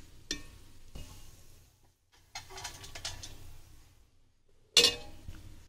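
Fried ingredients for sheer kurma being scooped from a pan into a bowl: scattered scrapes and clinks of a spoon against metal come in short bursts with quiet gaps, ending in a sharp close clink, and no talking.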